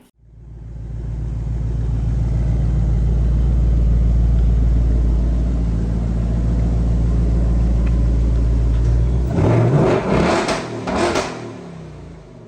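A 2025 Ford Mustang GT engine rumbles at a steady, loud idle for most of the stretch, then gives a couple of short, sharp revs near the end before settling.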